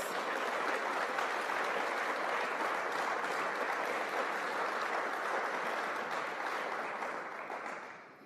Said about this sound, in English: Can we give another round of applause to our speakers?